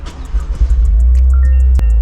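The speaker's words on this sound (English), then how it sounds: "let me start the car" A 2023 Toyota GR Corolla engine starts up close by, a short burst of cranking giving way to a steady, deep rumble at idle.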